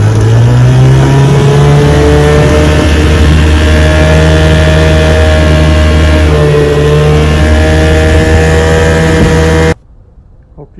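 A restored vintage Johnson outboard motor on a 14-foot boat runs loud and steady for about ten seconds, a close, droning engine note that cuts off abruptly at the end.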